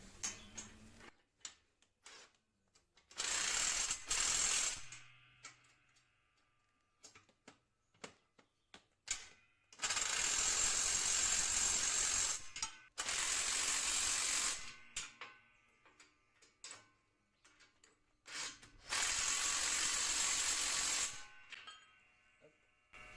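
Bolts are tightened during assembly of a hydraulic press, heard as bursts of a close, loud buzzing power driver, about five separate runs of a second or two each, separated by quieter clicks and handling noises.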